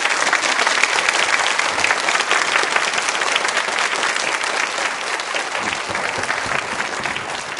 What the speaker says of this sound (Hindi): तो एक बार जोरदार तालियां बजाइए आप।